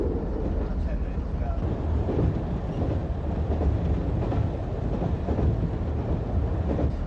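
A train runs along a single-track rural branch line through dairy farming country in Devon, giving a steady low rumble and rolling rattle that holds constant throughout, with wind buffeting the microphone.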